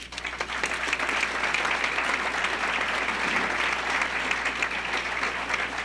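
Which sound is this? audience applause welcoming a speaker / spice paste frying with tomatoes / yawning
audience applause welcoming a speaker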